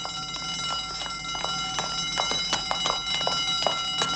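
A continuous electronic alarm rings steadily and loudly with a bright tonal buzz, sharp clicks and knocks scattered through it, in a tense scene.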